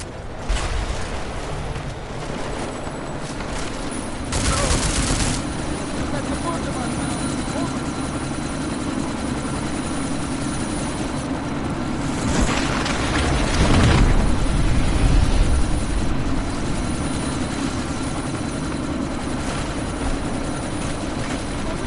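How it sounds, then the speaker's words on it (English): Helicopter about to lift off in a video game, its rotors a loud, continuous droning whir that swells at times, with bursts of other game noise layered over it. "That chopper's about to take off!"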